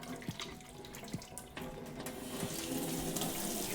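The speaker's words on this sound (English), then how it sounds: "Trying to get all these bits of dough cleaned out of the sink that were on my hands" Tap water runs into a kitchen sink while dough bits are rinsed off hands, starting as uneven splashes and knocks, then settling into a steady, fairly quiet stream.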